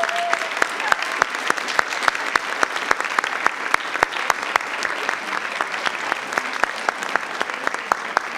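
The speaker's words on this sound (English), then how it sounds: "let's give them a round of applause" Audience at a school board meeting breaks into sustained applause, a dense, steady clatter of many hands clapping for several seconds with no clear pause.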